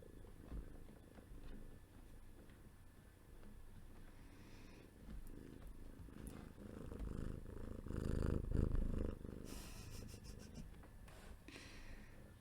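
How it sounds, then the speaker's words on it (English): A small cat purrs close to a microphone in a quiet room, giving a soft, continuous rumble that swells slightly louder toward the end. "A little cat purring ASMR for you."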